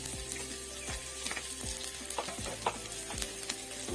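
Panch phoron spices fry in hot oil with onions, making a busy, crackling sizzle punctuated by repeated scraping stirs of a spatula against the pan, close and steady.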